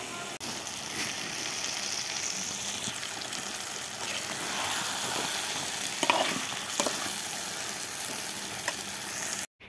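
Chicken with tomatoes frying in a pan, a steady close sizzle and crackle running throughout with occasional stirring scrapes, loud and continuous.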